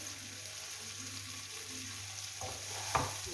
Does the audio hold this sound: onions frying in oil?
yes